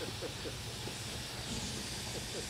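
Steady hiss of steam from a small toy steam engine built as a motorcycle, a constant airy rush with faint low chugging underneath, close and continuous without pause.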